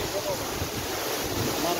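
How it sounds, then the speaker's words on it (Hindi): A large waterfall on the way to Amarnath: a steady, dense rush of falling water fills the air at a constant roar, with wind buffeting the microphone. "यह देखिए जो कि एक बड़ा झरना है"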